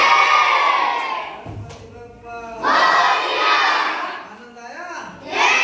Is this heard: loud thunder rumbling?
no